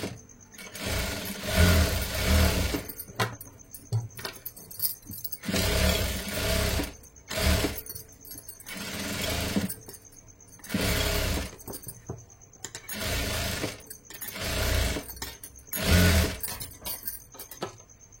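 A sewing machine stitches a blouse seam in repeated bursts of a few seconds each, with short pauses between runs, loud and close.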